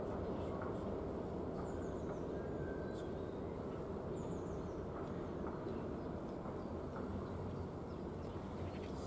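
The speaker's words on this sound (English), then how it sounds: "It's obviously a freight train of some sort." A freight train rolls through March railway station, a steady dense rumble and rattle of wagons that holds level and loud throughout, with faint bird calls and a few brief squeals over the top.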